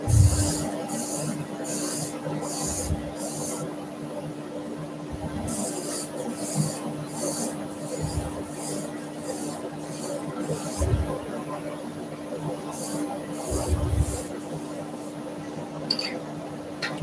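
A rotary sanding head with a soft pad and fine grit works a piece of wood in a workshop, a low steady motor hum under repeated short rasping passes that come and go in bursts.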